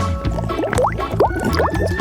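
Water pours for a drink in a children's cartoon, with a rapid series of gurgling glugs and rising bubbly tones as the liquid fills, loud and close.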